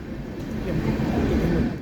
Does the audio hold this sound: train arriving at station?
yes